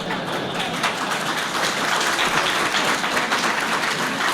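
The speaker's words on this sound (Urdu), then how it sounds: "تالیاں اسی پر بجنی ہیں ساری." Audience applause in a seminar hall at the inaugural session of a dental hygiene event, steady dense clapping from a seated crowd that holds strong throughout without speech.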